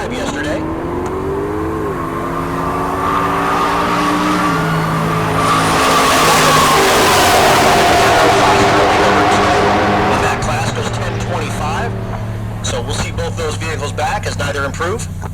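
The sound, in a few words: Chevrolet Silverado drag racing at Heartland Park Topeka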